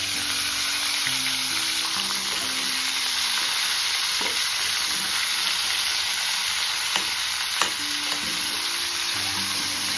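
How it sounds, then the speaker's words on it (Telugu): Mutton pieces frying in two spoons of ghee inside a pressure cooker, a loud steady sizzle close by with faint stirring scrapes throughout, no talking. "ఈ మటన్ని వేసుకొని కొంచెం సేపు వేయించుకోవాలి."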